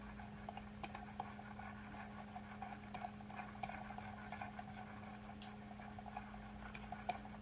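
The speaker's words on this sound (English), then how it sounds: "that burr getting knocked down right away, and then the sound immediately changes once you're down onto the bevel" A knife is sharpened on a Work Sharp Precision Adjust sharpener, giving a faint continuous raspy scraping of the blade on the abrasive stone, repeated strokes at an even pace over a low steady hum.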